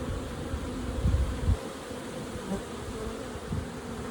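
Bees hum steadily around an open hive, a close, continuous low drone with brief louder passes as individual insects fly near.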